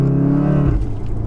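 A tuned 600bhp Volkswagen Golf R runs with a loud, droning engine and exhaust note that holds steady, then drops in pitch near the end as the revs fall.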